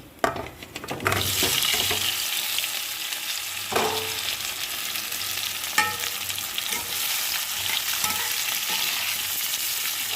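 Boiled potatoes fry in a hot pan with steady oily sizzling, broken by several sharp scrapes and clatters as they are stirred, loud and close with no voices.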